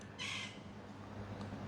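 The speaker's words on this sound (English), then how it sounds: "Oh, a few birds." A single crow-like caw rings out outdoors on a warm day in Jamaica over a faint steady background hum.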